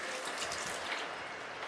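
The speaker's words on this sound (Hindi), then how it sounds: "गवार को पानी डाल के अच्छे से धो लेंगे।" Cluster beans are washed in a container of water, producing a faint, steady trickling and sloshing that continues throughout at low volume, with no talking.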